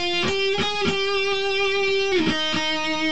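Electric guitar picking the next part of an intro solo, a sustained bending note with a few quick picked notes before and after, clear and alone.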